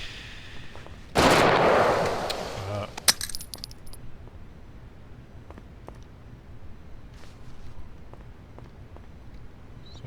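Spaz 12 shotgun fired in the game Black Bag: one loud, sharp blast with a long rough tail of about two seconds, a smaller crack after it, then quiet faint clatter.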